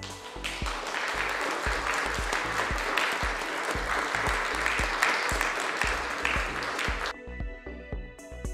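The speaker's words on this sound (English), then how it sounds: "Applause. Acclamation." Burst of applause from a group, dense clapping that holds steady for about seven seconds and then stops abruptly, leaving a faint ringing tone.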